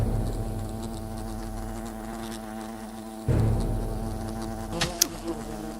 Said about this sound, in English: Bloody hell, they're big wasps.